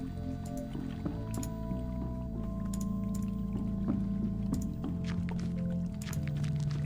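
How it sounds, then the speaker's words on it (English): Petrol sloshing faintly inside a shaken can in the video game The Drifter, a few soft liquid swishes and drips under a steady droning musical background. "I shake the can. Slosh of petrol at the bottom."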